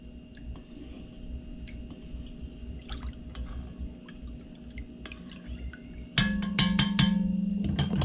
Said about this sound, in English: Now we're just gonna give it a little stir just to get it all in there